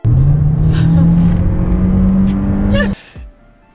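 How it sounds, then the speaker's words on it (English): A Fiat 500X engine strains loudly as the car is taken fast through a turn, a steady droning rev held close up, then it cuts off abruptly and a quieter cabin rumble and brief noises follow. "that's what it's like taking a turn in a Fiat 500X"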